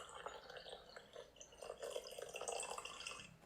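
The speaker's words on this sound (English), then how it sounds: "you can also hear the sound of the coffee being poured" Coffee poured into a cup as a sound effect: a steady liquid trickle and splash, fairly close and continuous, with no talking.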